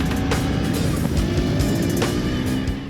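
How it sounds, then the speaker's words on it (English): A KTM Duke 390 motorcycle is ridden, with a loud, close engine drone and a steady buzzing hum broken by a few short bursts of wind and revving. "we took a short spin now on the Duke 390"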